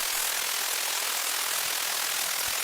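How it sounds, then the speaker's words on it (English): Distorted noise sample from a music production sample pack: a dense, steady, harsh broadband hiss-and-rumble that holds evenly at full level for the whole stretch, with no voices. "next up, we have the distorted noise,"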